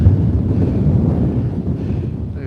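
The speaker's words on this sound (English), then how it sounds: "it's very blustery here" Strong wind buffets the microphone outdoors in Scotland, a loud, continuous low roar with gusty surges throughout and no talk.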